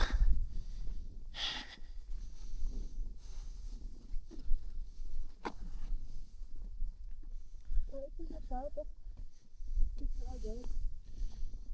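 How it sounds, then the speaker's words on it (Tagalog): Heavy, irregular panting and snorting breaths from someone climbing Mt. Olis in Atok, Benguet, close to the microphone, with voices talking and some higher vocal sounds toward the end. "Rinig na rinig siguro yung hingal ko dito"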